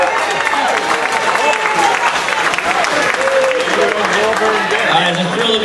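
A concert audience at the Berks History Center gives steady, loud applause for a regional rock musician, continuous dense clapping with crowd noise and some voices underneath.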